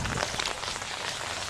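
Steady rain falls during a tornado warning, a dense continuous patter with no breaks, moderately loud and heard alone.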